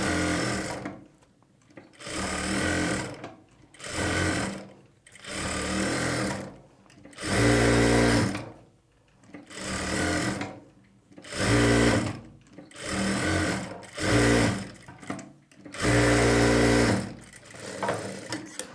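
A sewing machine stitches lining onto blouse fabric in repeated close bursts of rapid mechanical whirring, each lasting a second or two, separated by brief pauses, with no talk.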